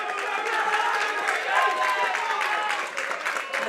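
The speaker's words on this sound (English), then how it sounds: "And the crowd cheering her on" A stadium crowd at a women's sixes grand final between the Sydney Seahawks and Adelaide Redbellies cheers and applauds steadily in a broad, continuous roar, with commentators talking over it.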